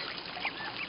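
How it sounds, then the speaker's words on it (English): Birds call faintly against a steady, rushing wash of water, with a few short bright chirps scattered through the second. "I hear the birds."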